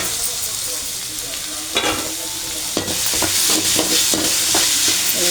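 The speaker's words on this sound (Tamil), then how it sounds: "எல்லாத்தையும் நல்லா வதக்கிடுவேன்" Shallots, onions and tomatoes sauté loudly in a pan, with a steady close sizzle broken by irregular scraping stirs toward the end.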